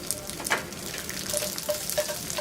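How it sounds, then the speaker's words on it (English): Yakisoba noodles frying in a pan over medium heat while being loosened, a steady close sizzle with light stirring scrapes and a few soft clinks, no talk. "Warm the pan over medium heat and fry for about 5 minutes while loosening the noodles."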